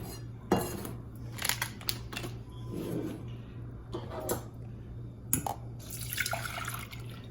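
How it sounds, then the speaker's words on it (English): Dishes clink and rattle in a sink with running and dripping water as rinsed flattened rice (poha) is drained, several sharp clatters over a steady low hum. "So we mixed it all up, and we're gonna drain it."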